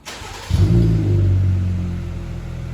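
A cold Jeep Rubicon engine starts and settles into a steady, rumbling exhaust note through a new Dynamax tailpipe, with a low, even drone that fades slightly over a few seconds, close by and alone.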